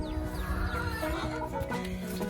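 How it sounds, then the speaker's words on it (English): Chicks cheeping inside a Silkie chicken coop, thin high peeps mixed with hens clucking, a busy layered barnyard chorus heard close and steady throughout. "I think there's baby birds in the Silky Chalet"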